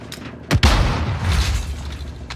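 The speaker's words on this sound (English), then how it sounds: "Throwing stun" A stun grenade goes off in Warzone with a single heavy, close boom followed by a dull rumbling roar that lingers and slowly fades, with no voices.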